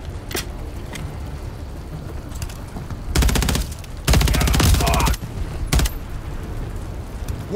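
Gunfire from a bridge in Call of Duty: Modern Warfare III: scattered single shots, then two sustained bursts of rapid automatic fire, loud and close, followed by a few more isolated cracks.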